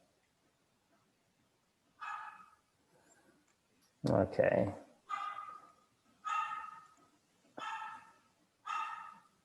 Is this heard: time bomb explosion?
no